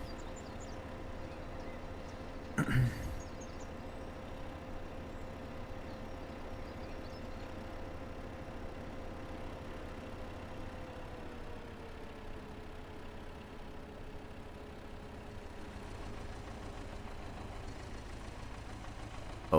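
Small tractor engine in a farming video game, a faint steady low drone running throughout with a brief loud knock early on, no talk.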